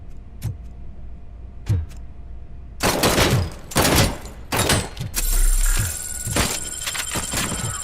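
Gunfire in RoboCop: Rogue City begins with a few sharp isolated shots, then breaks into loud clustered bursts of rapid fire mixed with mechanical noise and ringing tones.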